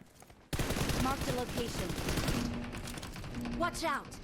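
Rapid bursts of automatic gunfire ring out in an 8vs8 match of the mobile game PUBG Mobile, sustained rattling volleys with someone talking excitedly over them.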